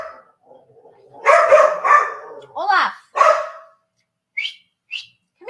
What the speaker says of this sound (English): He's barking at the window.